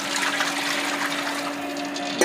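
Water pours steadily into a cooking pot holding measured rice and hot ghee for jaggery rice, a continuous close rushing splash that ends abruptly after about two seconds.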